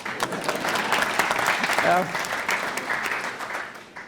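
An audience at the St. Gallen Symposium applauds, a dense spread of hand claps filling the hall at steady loudness, with a voice speaking briefly over it.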